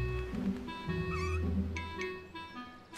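A cat meows in a couple of drawn-out, wavering calls, close and fairly quiet, with a low background rumble behind it.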